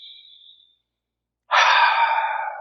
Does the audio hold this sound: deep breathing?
yes